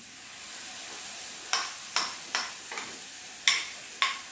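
Spice paste of chilli powder, turmeric, asafoetida and vinegar hits hot oil with frying garlic and ginger for Kerala buffalo pickle, giving six sharp sizzling bursts over a steady low background hiss.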